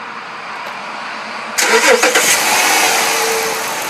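A 2010 Dodge Charger SXT starts up nearby: a quick crank catches into a loud mid-pitched engine burst, then settles into a steady idle.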